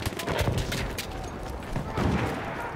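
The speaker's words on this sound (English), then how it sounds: "Listen to how powerful this gun is." Martini Henry infantry rifle fire in the first-world-war shooter Battlefield 1 comes as loud, booming shots with rolling echoes, surrounded by distant battlefield gunfire and explosions, with no one speaking.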